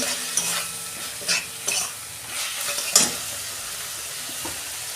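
Cumin and coriander powder being fried and stirred in a pan for a cabbage dish: a soft continuous sizzle with scattered scrapes and taps of a utensil against the pan, close and moderately quiet.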